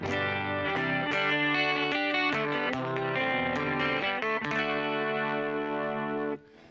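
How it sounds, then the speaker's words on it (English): A new, cheap electric guitar played through effects rings out with distorted, chorus-laden chords and picked notes, loud and continuous, before cutting off abruptly near the end. "Working a little bit on this new fancy cheap guitar."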